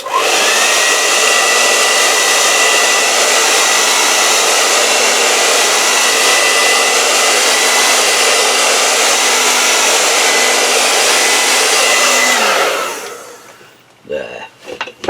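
A hair dryer blows steadily and loudly on a watercolor painting of a gorge, running as a continuous whir for about twelve seconds before switching off and winding down, followed by a few faint handling knocks.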